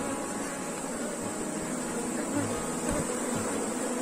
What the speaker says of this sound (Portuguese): o enxame, ó, apesar de hoje estar com muita abelha